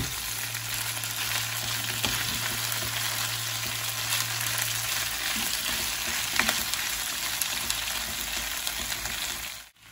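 Chopped onions and peppers fry in a pan for a shrimp tagine, giving a steady, close sizzle with scraping stirs throughout and no talking.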